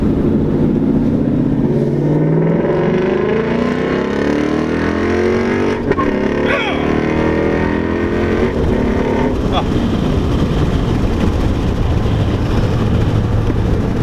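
A 2016 Ford Mustang GT V8 revs loudly and steadily up close, its deep engine note rising and falling over about fourteen seconds with a sharp burst partway through.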